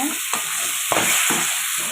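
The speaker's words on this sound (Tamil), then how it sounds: "அதனால் நான் லைட்டாக தண்ணி ஊற்றி தக்காளி வேகிற அளவுக்கு நல்லா வதக்கிக்கிறேங்க" Tomatoes sautéing in a little water for karuvattu thokku (dried fish thokku), with a steady close sizzle and a few distinct stirring scrapes of a spoon against the pan, no voices.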